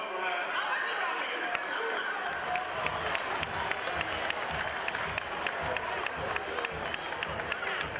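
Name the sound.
audience applause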